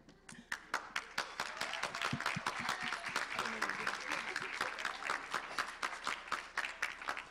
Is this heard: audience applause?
yes